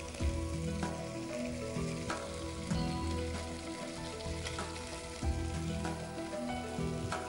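Vegetables, including cabbage, spring onion and carrot, sizzle steadily in hot oil as they are stir-fried for a soup, a dense continuous frying hiss with a few louder swells, close and without any voices.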